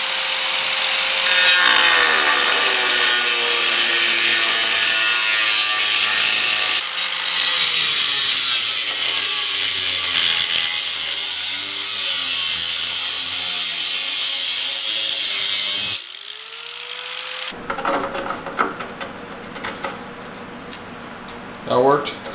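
A power tool cuts slits into a car exhaust pipe for a clamp, giving a loud sustained grinding whine with shifting pitch, which stops abruptly and is followed by scattered metallic clanks and handling noises.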